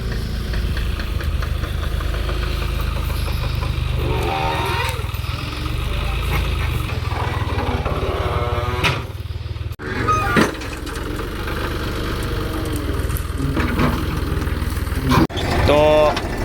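A farm tractor runs in a field where cow-dung manure is about to be loaded. A steady low engine drone with a faint knock continues under someone talking throughout, with a few sharp clanks along the way.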